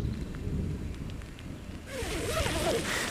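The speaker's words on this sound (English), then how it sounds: "All right, here it comes, starting to come down." Rain begins falling in a dry Sierra Nevada forest, a soft hiss that swells suddenly partway through and continues steadily over low wind rumble.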